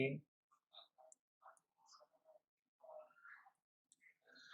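A computer mouse clicks on the OK button while installing CX-One PLC programming software: one sharp click at the start, then soft quiet tapping sounds while a voice talks intermittently.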